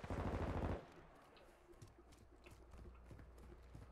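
A horse gallops in Call of Duty, a loud burst of rapid hoofbeats in the first second that gives way to faint game ambience.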